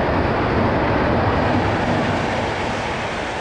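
The Flying Ranee, a non-AC double-decker passenger train between Surat and Mumbai in India, running along the track with a steady, loud rumbling roar and wind-like rush heard from on board, with no talk.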